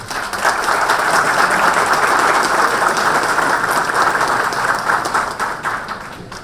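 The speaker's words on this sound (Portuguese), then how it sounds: "Uma salva de palmas, por favor." A large crowd applauds steadily at a lecture as a speaker is introduced, a dense wash of clapping that holds strong throughout and tapers slightly near the end.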